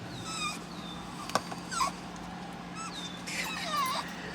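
A dog whimpers and cries inside a car waiting at a drive-thru, giving faint, thin, rising whines in several short bursts over a steady low engine hum.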